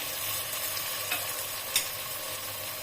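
Capsicum and cauliflower sizzling in a pan for vegetable pulao while being stirred, a steady hiss of frying with a couple of light scraping clinks, close and without talk.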